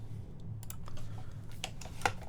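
Typing on a mechanical keyboard fitted with lubed Cherry MX Black switches with switch films: quiet, muted keystrokes in an irregular stream over a low background hum, no talking.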